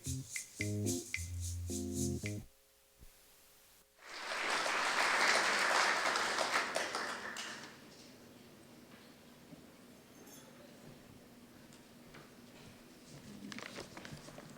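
An audience at the Texas Radio Hall of Fame applauds a speaker coming to the stage, a sudden burst of dense clapping after a short musical sting that gradually thins and fades into room noise.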